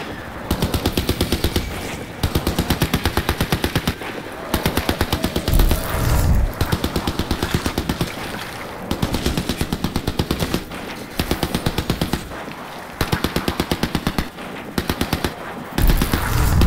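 Turret machine-gun fire from the video game Crysis 3 rattles out in repeated rapid bursts of about a second and a half each, loud and close, separated by short pauses over a steady background rumble.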